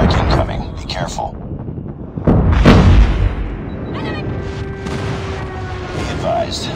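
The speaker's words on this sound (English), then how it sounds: "Enemy airstrike incoming." Booming airstrike explosions and heavy gunfire rumble through a Call of Duty-style hardpoint match, loud bursts layered with wind-like noise while game announcer voices talk over the action.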